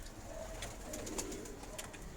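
Pigeons coo softly in low, murmuring calls, repeating at a relaxed pace with faint rustles and clicks around them. No one speaks.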